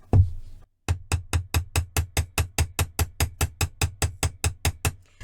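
A small hammer strikes a wire-wrapped flower on a beaded bookmark to work-harden it, tapping about eighteen times in a steady, even rhythm, each blow a crisp, close metallic knock following a brief opening thud.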